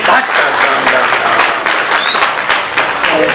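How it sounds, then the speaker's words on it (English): A crowd at a book launch for Four Patriots breaks into a loud, sustained round of applause, dense clapping filling the room close by without letup. "Can we have a huge round of applause, please?"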